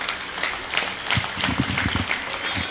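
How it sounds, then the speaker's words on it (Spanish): A church congregation claps loudly, standing at a pastor's call during a Spanish-language service, a dense ongoing round of applause with sharper hand claps near the middle. "denle fuerte palmas a Cristo Jesús."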